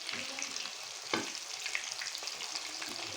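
Chicken pakoras frying in hot ghee crackle with a loud, continuous sizzle close by, broken by a sharp scrape as the pieces are flipped over.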